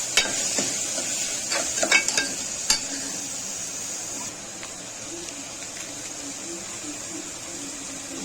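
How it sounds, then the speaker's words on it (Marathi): Kitchen king masala being stirred into onions and tomatoes frying for a jackfruit seed curry: steady close sizzle with clattering spoon scrapes against the pan early on, then quieter frying. "किचन किंग मसाला, मिक्स करून घ्यायचं आहे"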